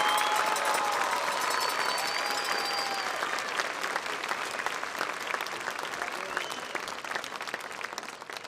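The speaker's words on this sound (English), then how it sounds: "May we please have a round of applause." A crowd at a high school graduation ceremony applauds honor graduates: dense, sustained clapping that stays strong throughout and tapers only slightly toward the end.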